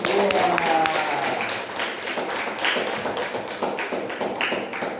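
A classroom audience applauds a student group after its presentation, a dense, steady patter of many hands clapping that carries on loudly and evenly for several seconds.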